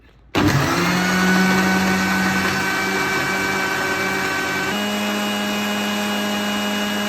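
A loud, close blender whirs steadily as it purees tender coconut flesh with coconut water for a shake. The motor pitch shifts slightly midway, then it runs on to the end.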